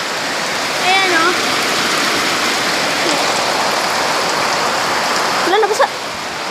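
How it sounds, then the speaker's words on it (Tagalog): Heavy rain pours steadily outside, a dense continuous hiss of falling water throughout, with brief voices and chirps briefly rising above it near the start and end. "Super lakas ng ulan."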